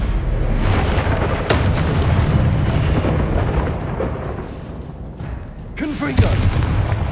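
A Confringo explosive spell goes off in Hogwarts Legacy, a loud booming blast with a sharp onset and rumbling tail, followed later by a second burst amid dense game noise, with voices casting spells around it.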